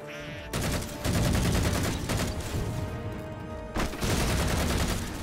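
Sustained assault rifle fire in Halo 4 crackles in rapid, dense bursts, loud and close, with a brief pause before the shooting resumes.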